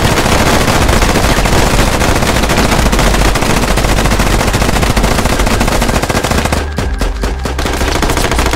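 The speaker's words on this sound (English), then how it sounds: "I'll just shoot them again" Sustained automatic gunfire in the tactical shooter Squad, with rapid, dense bursts running loud and close almost nonstop, briefly dipping and thinning near the end before resuming.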